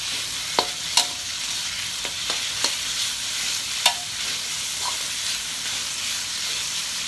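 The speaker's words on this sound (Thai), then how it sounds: "เอาหมูลงพัดเลยเจ้า" Pork stir-fried in a pan for a Thai stir-fry with seeds, a loud steady sizzle and hiss with occasional clinks of the utensil against the pan.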